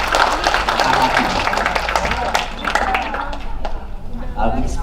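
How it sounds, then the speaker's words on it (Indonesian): A group gives a woman a round of applause at a public speaking training session, steady dense clapping with voices mixed in throughout. "tepuk tangan dulu untuk Ibu."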